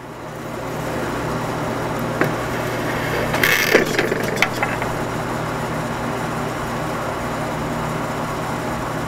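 A low-cost wire stripping machine with its pressure rollers set too tight grinds away at wire as a steady mechanical drone, with a brief cluster of clicks and clatter in the middle.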